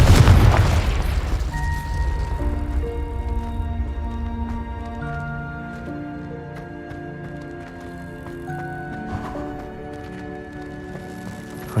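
Fire spell explosions in the Hogwarts Legacy video game: a heavy boom at the start, then a sustained rumble with layered tonal magic effects and scattered crackling bursts fading across the clip.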